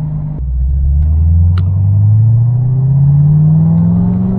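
A Corvette C6 ZR1 engine accelerating hard from inside the car, a loud deep rumble climbing steadily in pitch as it pulls, with no talking.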